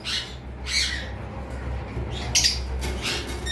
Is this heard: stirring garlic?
no